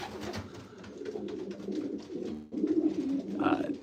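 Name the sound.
pigeons cooing in a pigeon loft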